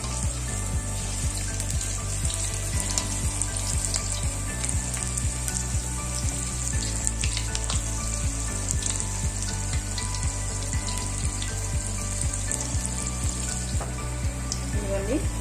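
Mirchi bajji, battered green chillies, frying in hot oil, a dense, continuous crackling sizzle heard up close and loud throughout, with occasional stirring clinks and no talk over it.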